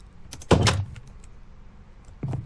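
Minecraft doors opening and closing, two distinct clunky door sounds in quick succession near the start, then another about two seconds later, close and clear against quiet background.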